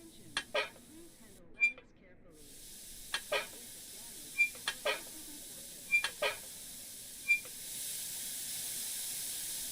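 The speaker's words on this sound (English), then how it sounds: "Standard running water, standard running water." Water runs steadily from pipes in the post-apocalyptic sci-fi game Encased, a constant soft hiss with a few brief sharp clicks scattered over it.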